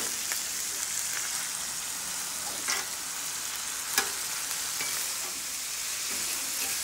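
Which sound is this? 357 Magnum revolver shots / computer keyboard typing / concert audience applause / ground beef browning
ground beef browning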